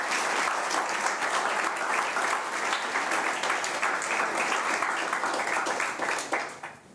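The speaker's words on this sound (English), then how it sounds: "So I think you deserve a round of applause." Sustained applause from an audience at a national youth parliament session fills the room steadily, dense clapping that holds level before tapering off at the end.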